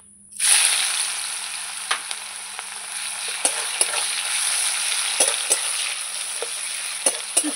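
Onions frying in a pan for chicken curry after bay leaves and dried chillies, a continuous close sizzle with occasional sharp clinks and scrapes of stirring, and no talking.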